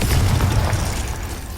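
A Confringo blasting spell goes off in Hogwarts Legacy as a single dense, loud explosive boom with a heavy low rumble, decaying gradually over about a second and a half.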